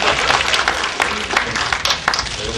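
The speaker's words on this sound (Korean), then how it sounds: "박수 쳐주세요" Audience at a Korean film press preview applauding, a dense, steady wash of many hands clapping that carries through the whole moment without a break.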